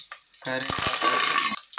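Green chillies and coconut pieces drop into hot oil for a stovetop tempering, a broad hissing sizzle swelling up close and holding steady, with a few dull thumps from stirring.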